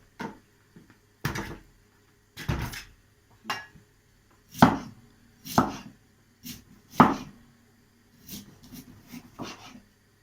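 Knife chopping sugar beets on a cutting board, about a dozen sharp thuds in irregular bursts, close and clear with no talking.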